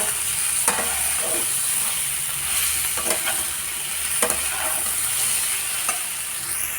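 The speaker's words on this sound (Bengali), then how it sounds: "আরও কিছুক্ষণ দশ থেকে পনেরো মিনিট মতো আমি কষিয়ে নেব" Pointed gourd and soybean chunks sauté in a hot pan with a continuous loud sizzle, broken by occasional scraping stirs of a spatula, close up and with no voices.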